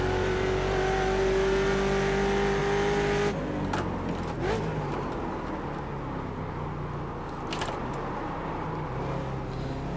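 Simulated Ford Mustang race car in iRacing at Laguna Seca, engine droning loud and steady then dropping abruptly in pitch as it downshifts without the clutch, followed by rougher lower revs with faint tire noise.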